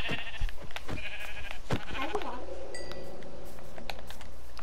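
Blocky sheep in Minecraft bleat in a few short calls amid game sounds, with a keyboard clicking and a person talking over it.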